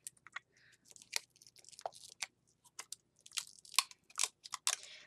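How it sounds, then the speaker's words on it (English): Crinkly plastic packaging of a duct tape container being pried open by hand, close and quiet: irregular sharp crackles, snaps and rustles in bursts with brief silences between. "let's get started by trying to open the duct tape container"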